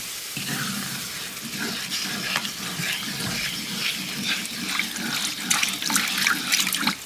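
Swanson chicken broth from a 32-ounce carton poured a little at a time into a pan of Southern smothered chicken gravy, a steady close liquid splashing and bubbling with light sizzle, no talk.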